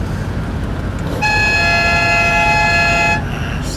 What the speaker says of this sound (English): And can we hear the horns as well?